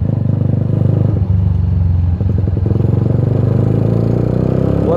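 A custom flat track Bajaj Pulsar motorcycle engine idling close by with a loud steady rumble, briefly blipped with a couple of quick throttle revs.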